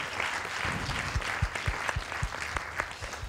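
An audience applauds at a science film-club screening, sustained clapping with some sharp, distinct individual claps standing out near the front.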